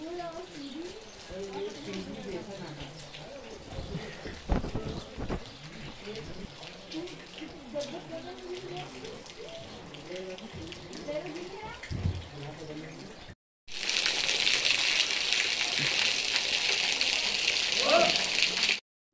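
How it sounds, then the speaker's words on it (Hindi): Rain falls steadily in the mountains with soft background activity, then a louder, denser downpour hiss takes over near the end. "पहाड़ों में ऐसी बारिश हो रही है कल से"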